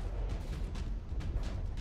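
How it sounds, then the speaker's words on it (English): Shell explosions hitting a wooden-armored ship in the naval combat game From the Depths, a continuous dense rumble of booms with several sharper bursts cutting through, loud and steady with no speech. "Its wooden armor does not stand up well to those explosions."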